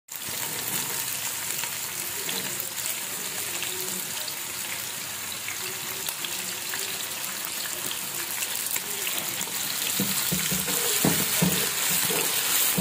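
Chopped onion and a spoonful of salt fry in hot oil in a pan for a chicken pasta dish, a continuous close sizzle that grows a little louder and busier near the end, with no talking.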